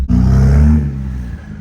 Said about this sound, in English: You can hear those turbos so well.